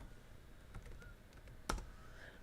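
Sparse clicks of typing on a computer keyboard while entering data into a database, quiet and close with a couple of sharper keystrokes.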